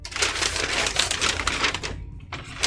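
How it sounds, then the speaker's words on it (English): Big old scissors snip through a large chunk of fabric on a desk, a dense run of crisp, rapid crunching cuts close by, pausing briefly near the end before one more burst. "So I'm just going to cut off with my big scissors."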